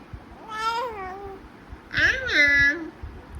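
A cat gives two clear drawn-out meows about a second apart, fairly close, in an otherwise quiet room.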